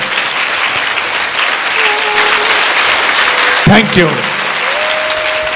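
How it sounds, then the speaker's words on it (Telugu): An audience at a school talk bursts into dense clapping that keeps going steadily, while a few spoken voices and a sharp handling thump cut through partway. "please kiss them and clap for them"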